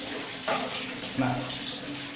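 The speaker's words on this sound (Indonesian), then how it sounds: "airnya sudah otomatis mengisi karena sensor sudah membaca bahwa air kurang dari atau lebih dari 16 cm membacanya" Water runs from a sensor-controlled tap with an HC-SR04 ultrasonic sensor into a bucket, a soft, fairly quiet splashing stream with a few brief spurts.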